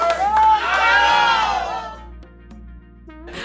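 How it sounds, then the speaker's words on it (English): Ohio State Buckeyes fans chant together at a national championship celebration, a loud, rhythmic wall of voices that swells and then fades into quieter background crowd noise. "What's a championship without a chant?"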